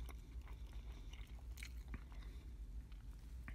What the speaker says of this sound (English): Let's just take a bite.